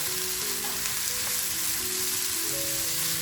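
Onions frying in a pan with green chili, garlic and ginger make a steady, close sizzle with soft crackles throughout, with no talking.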